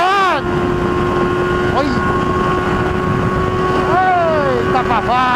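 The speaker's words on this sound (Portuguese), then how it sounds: "O escape tá como? Tá berrando." A Honda Hornet motorcycle's exhaust roars steadily on the road while riding, a constant loud drone with wind rush, pitch sweeping up and down with gear changes; a voice calls out briefly.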